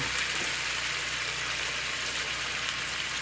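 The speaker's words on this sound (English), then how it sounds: "We'll put a 1/3 cup of beer into that." Beer splashed into a hot pan of fresh salmon sautéing with a tomato topping, giving a steady, loud, dense sizzle that holds evenly throughout with no talking.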